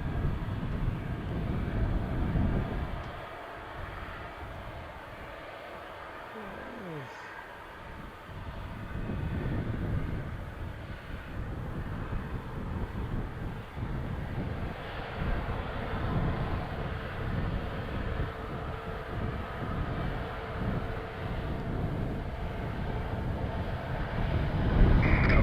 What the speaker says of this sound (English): that on screen right now is WestJet flight 487 arriving from Winnipeg